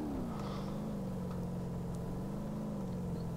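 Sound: car driving on sand in BeamNG Drive video game

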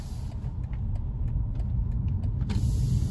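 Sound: BMW 2 Series Gran Coupe accelerating

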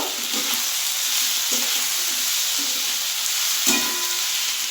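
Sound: sautéing green chilli paste and turmeric in a pan

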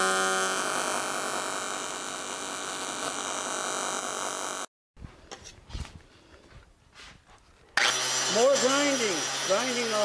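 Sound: grinder grinding off brackets and welds on airboat radiator support

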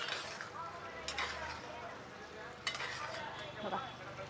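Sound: stirring potato vegetable curry in a pan

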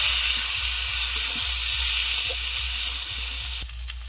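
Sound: tomato sizzling while frying meat curry

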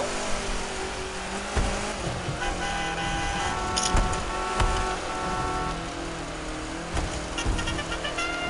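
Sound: car drifting

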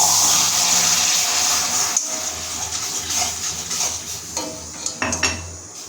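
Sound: stirring caramel in a pot, then adding a little water

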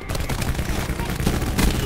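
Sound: Swordfish gun firing in video game Black Ops 4

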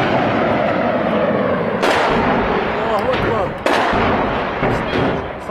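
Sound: artillery shelling fire in combat

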